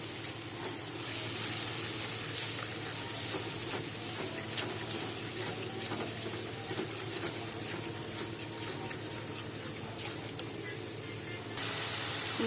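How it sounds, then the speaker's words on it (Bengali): A spice paste mixed with water and a little sugar sizzles steadily while being sautéed in a pan for a Bengali eggplant dish, a continuous close hiss with occasional stirring clicks and no talk. "এখন সব কষিয়ে নেব।"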